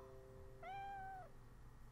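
A cat meows once in a video game: a single drawn-out, fairly quiet meow lasting about half a second, heard alone over a low, steady background.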